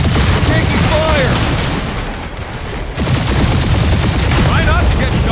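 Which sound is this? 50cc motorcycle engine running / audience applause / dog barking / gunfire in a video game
gunfire in a video game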